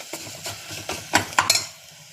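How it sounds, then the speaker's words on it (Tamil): A few scraping, clinking strokes of a spoon stirring tomato into crab soup in a pan, with a soft sizzle underneath, close and fairly quiet. "சேர்த்துட்டு நல்லா கிளறி விடலாம்."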